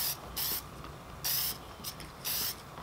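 Aerosol spray paint coating a Team Associated B6 RC car body in short pressurized hissing bursts, four main sprays with brief pauses between, close and steady.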